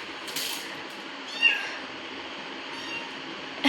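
A small kitten meows a few times, thin high cries over a steady background hum, close but not loud, with a sharper call near the end.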